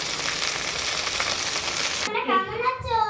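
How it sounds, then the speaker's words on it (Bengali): Okra (bhindi) frying in a pan, a continuous close sizzle with stirring, then a voice briefly over the cooking noise near the end. "ভেন্ডিটা ভাজা হোক আস্তে আস্তে।"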